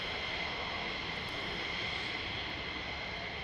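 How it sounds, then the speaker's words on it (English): Very noisy F-15 fighter jets fly overhead as a constant, broad roaring wash of jet noise with a high whine on top, distant and unbroken throughout. "We've got more fluffy animals this time, together with some very, very noisy F-15s"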